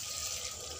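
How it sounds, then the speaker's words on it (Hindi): Water pours into a pan of potato curry (aloo sabzi, made without onion or garlic), a steady close splashing rush that carries on alone for under a second. "तो इसमें मैं डालूंगी पानी"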